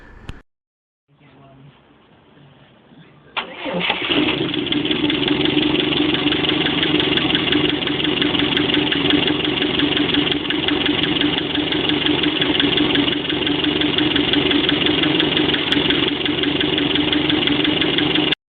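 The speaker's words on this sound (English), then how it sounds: "we can see that the engine actually ran, albeit quite poorly, and it smoked" After a brief quiet start, an old Volvo Amazon's engine catches and settles into a loud, steady, uneven idle, running poorly, that continues close by without pause.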